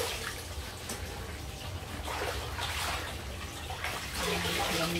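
Young radish for kimchi is washed by hand in water, with steady splashing, swishing and trickling close by and no talking.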